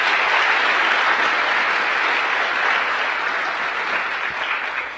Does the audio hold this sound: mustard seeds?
no